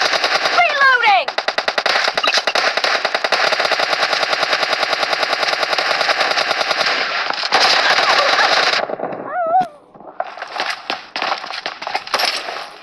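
Rapid automatic gunfire from PUBG Lite played on a Redmi Note 11SE phone, a long sustained burst of loud repeated shots with brief chirpy game effects, then a pause and more scattered firing near the end.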